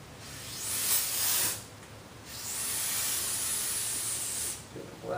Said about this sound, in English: Get a plastic and brake clean here.